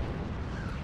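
RPG rockets explode in Just Cause 3 as one heavy, roaring blast fills the short moment, loud and close with a dense low rumble.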